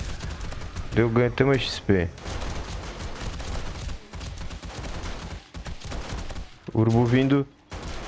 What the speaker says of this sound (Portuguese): Eu vou ficar atirando.